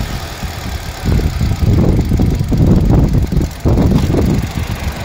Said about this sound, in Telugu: ఇంజన్ సౌండ్ చూడండి, చాలా స్మూత్ ఉంది బండి.